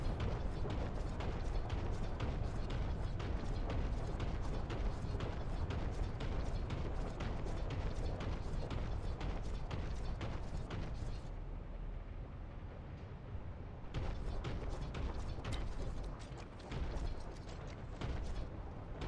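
Nerf minigun in the Warhammer 40K shooter Boltgun, a dense, continuous mechanical whirr and rattle of rapid-fire bursts, loud and sustained for many seconds with a brief lull midway.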